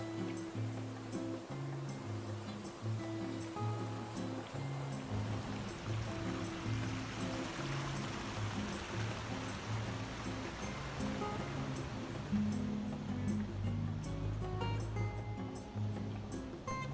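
Ocean waves wash continuously at the water's edge near tide pools in Mazatlan, a faint, steady surf hiss with gentle swells and no clear breaks.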